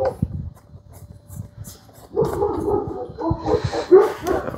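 Several dogs whimper, yip and give short barks nearby, bursts of excited noise rising partway through over faint background clatter.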